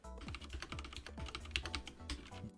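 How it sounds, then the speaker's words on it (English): Close, quiet typing on a computer keyboard fitted with Cherry MX Red switches, a steady patter of soft keystrokes with a few heavier thocks and no talking. "I have a Cherry Mix red key switches"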